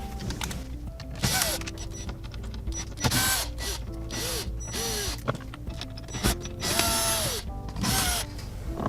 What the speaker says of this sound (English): And then we'll be removing 7 screws total here.